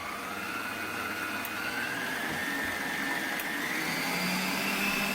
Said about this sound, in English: So that's the sound of this machine in each one of the settings minus pulse.